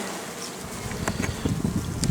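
Honeybees buzz close by at a hive during a colony inspection, a dense insect hum with faint outdoor wind behind it.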